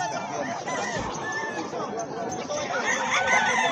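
A young gamecock stag among other roosters and fowl at a busy pet market, clucking and crowing close by over a dense, noisy crowd of birds and voices.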